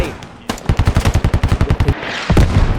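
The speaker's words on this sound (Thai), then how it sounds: "โดนยิงไปนะครับยิงหัวเข้าไปครับ" Rapid automatic gunfire in the video game Squad: a burst of about a dozen loud, evenly spaced shots, then a pause and a few more heavy shots nearby.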